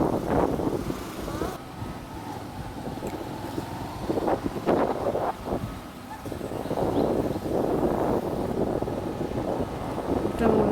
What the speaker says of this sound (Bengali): এত বাতাস বিকেলবেলা